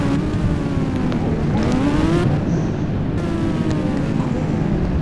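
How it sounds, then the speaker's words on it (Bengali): A motorbike driven fast in the video game GTA 5, its loud continuous engine roar rising and falling in pitch as it speeds along. "এখন একটু জোরে বাইকটাকে চালাই।"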